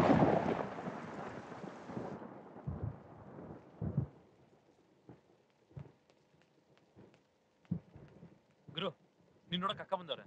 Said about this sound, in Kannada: ಮಳೆ ಬರ್ತಾ ಐತೆ